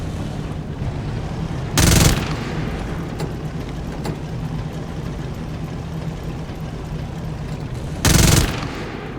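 Hull machine gun of a Tiger tank in the Tank Squad game firing two short, loud bursts a few seconds apart over a steady low engine rumble, with no talk.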